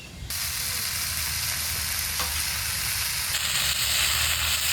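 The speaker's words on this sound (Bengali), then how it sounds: "এখন কালো জিরার রসুনটা ফোড়ন দেবো" Garlic and black cumin seeds are tempered in hot oil. A loud, close sizzle starts abruptly and holds a steady hiss, with a brief clink partway through and no talking.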